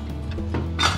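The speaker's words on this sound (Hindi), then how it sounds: "चलो अब हम कुकर खोल के देख लेते हैं कि हमारी सब्जी रेडी हुई है या नहीं।" Pressure cooker lid being opened after cooking mixed vegetables with peas, a short metallic clank and clink of the pot and lid close by, with no talking.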